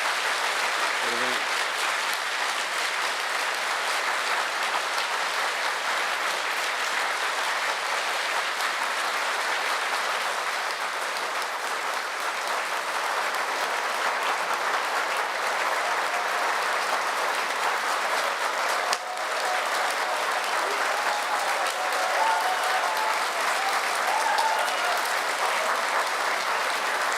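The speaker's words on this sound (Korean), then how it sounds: "윤석열 대통령님께서 나오실 때 큰 박수로 환영해 주시겠습니다" Sustained, dense applause from a large congregation at a Korean Easter union worship service welcomes the president, a long unbroken wash of clapping.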